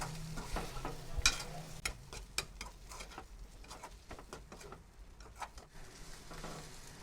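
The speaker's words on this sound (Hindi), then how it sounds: "इस मसाले में हम फ्राई की हुई भिंडी डाल लेंगे और भिंडी को अच्छे से मिक्स कर लेंगे मसाले के साथ" Fried okra is stirred into masala in a pan, with a string of quick scraping and clicking spoon strokes over a light sizzle, close and fairly quiet.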